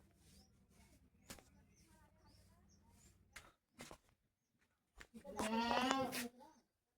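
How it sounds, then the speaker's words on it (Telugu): Goats and young kids at a village home bleat, a loud wavering bleat rising clearly near the end after scattered softer calls and thumps against a quiet background. "ఇది అయితే మేకలు ఉన్నాయి, మేకలు పిల్లలు ఉన్నాయి"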